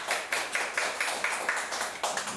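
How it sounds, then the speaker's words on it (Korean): Clapping from a small group at an elementary science information session, a series of distinct, fairly close claps in a steady rhythm, with no talking. "박수 부탁드립니다."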